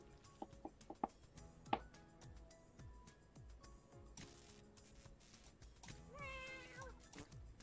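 A cat meows in a SpongeBob flash video game, a drawn-out wavering cry near the end, mixed among soft game clicks and ticks at low volume.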